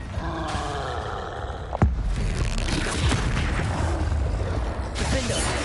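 A spell explosion in the Hogwarts Legacy video game erupts as a sharp boom near the two-second mark, followed by a sustained rumbling roar of combat noise that carries to the end, with the caster's voice shouting over it.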